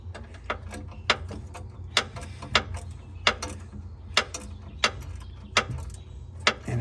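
A ratchet wrench loosens the muffler clamp on a Caterpillar excavator, clicking in a steady series of sharp metallic ticks about twice a second, close up, over a low ambient rumble.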